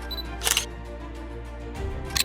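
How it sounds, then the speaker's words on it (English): A UIG Watch void detector gives two sharp camera-shutter capture clicks, one early and one near the end, over a quiet background. "wait for the device to capture the image with a capture sound"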